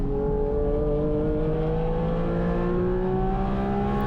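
Porsche 718 Cayman GT4 RS engine on a race track, a steady loud drone with rising and falling tonal harmonics as the car is pushed harder, continuous and alone.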